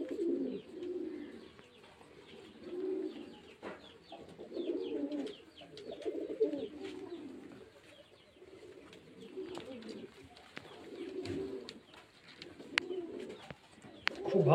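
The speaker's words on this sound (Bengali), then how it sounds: "এগুলো হচ্ছে সেই লাটের পায়রা, মুর্শিদাবাদের পিওর দেশি গিরিবাজ পায়রা" Pure desi Giribaz pigeons of Murshidabad, housed at a pigeon sale, give soft, low repeated coos in a steady rhythm of rolling bursts, close by and fairly quiet.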